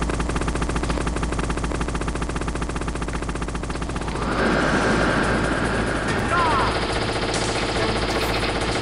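Rapid machine-gun fire rattles steadily during a helicopter boss fight in the video game Metal Gear Solid, joined midway by a louder rotor-like roar and further bursts, with no talking.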